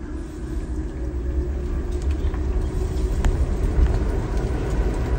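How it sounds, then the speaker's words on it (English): A Jeep 4xe coasting in neutral gives off a steady low rumble of tire and wheel rolling noise, moderately loud and continuous with no talking. "I can hear the wheels."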